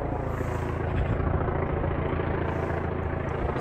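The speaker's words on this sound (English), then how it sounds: "This helicopter is just flying around for just 10-5 minutes." A helicopter circles over a backyard garden on a sunny early-spring day, a steady low rotor and engine drone that stays loud and constant throughout with no talking.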